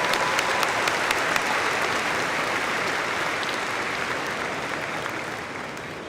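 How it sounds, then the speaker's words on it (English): A commencement audience applauds the Plattsburgh State Gospel Choir, a dense, even wash of clapping from a large crowd that continues without pause for about six seconds and tapers only slightly. "join me in one additional round of applause to the Plattsburgh State"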